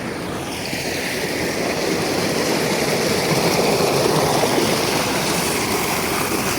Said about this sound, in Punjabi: ਡਬਲ ਟਰਪੈਨ ਚਲਾਈ ਤੇ ਸੂਏ ਦਾ ਪਾਣੀ ਵੀ ਆ ਰਿਹਾ ਜੀ